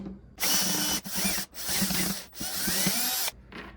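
A power drill or driver backs Phillips head screws out of a Chefman hot water boiler in three or four loud, steady whirring bursts separated by short pauses, with no talking.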